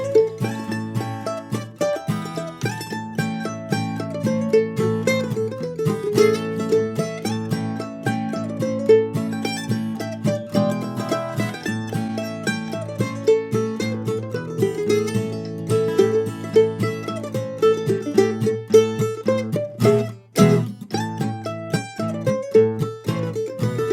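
A mandolin picks a quick, bouncy bluegrass melody with steady chordal strumming beneath, played alone and continuously throughout.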